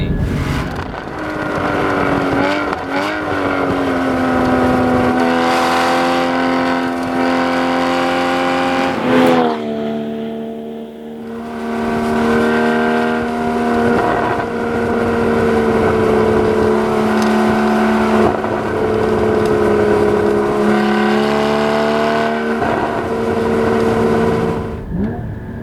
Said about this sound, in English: you want to get up into those higher rev ranges and just listen to that shriek